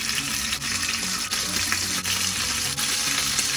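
Oxtails browning in butter over a very hot fire, a loud, dense sizzle running steadily with a few faint knocks or stirs breaking in every second or so.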